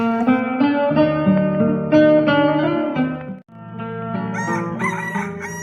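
A rooster crows loudly and close by, with long harmonic calls and a brief pause before another crowing phrase.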